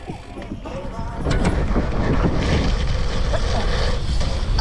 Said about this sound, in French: Mais tout ce vent. C'est abusé tout ce vent là.